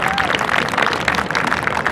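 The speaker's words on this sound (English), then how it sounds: "give him a round of applause" A banquet crowd at a boys' soccer team dinner claps steadily for two seconds, dense and close, with a bit of murmuring mixed in.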